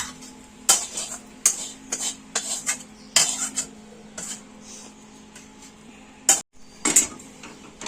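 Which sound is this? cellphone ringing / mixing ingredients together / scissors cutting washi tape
mixing ingredients together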